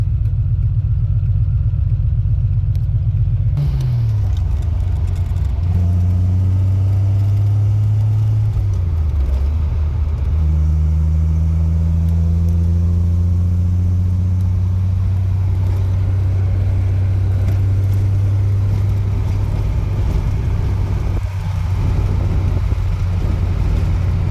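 Steady low engine drone with shifting tones as a 1974 Triumph TR6 with the top up accelerates and cruises on a highway, road rumble constant throughout, no talking.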